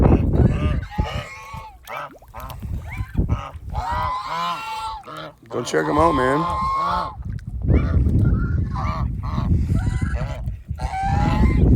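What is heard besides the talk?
geese honking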